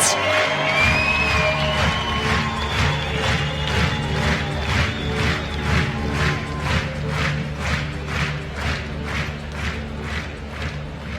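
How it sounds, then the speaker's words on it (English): Dense crowd applause with whoops and cheers fills a dressage championship arena for young horses, the rhythmic clapping steady and loud throughout, alone without talk. "Ladies and gentlemen, applause has to be louder."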